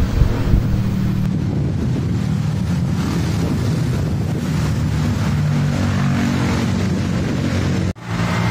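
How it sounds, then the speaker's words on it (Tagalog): Strong, cold wind roaring through a building lobby, a loud steady rushing and buffeting against the microphone that lasts throughout, no voices. "At naririnig nyo ba yung hampas ng hangin? Malamig at mahangin dito sa lobby."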